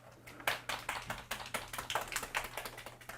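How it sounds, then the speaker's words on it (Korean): Audience clapping at a recycling festival commemoration ceremony in Sejong, a scattered burst of individual hand claps at moderate distance, fairly sparse and uneven, over a low steady hum. "이 네 분께 다시 한번 감사의 박수 부탁드리겠습니다."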